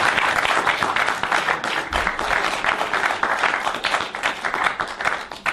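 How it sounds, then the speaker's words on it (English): Sustained applause from a large lecture audience, dense and steady clapping that fills the whole stretch without pause. "You got to give me applause."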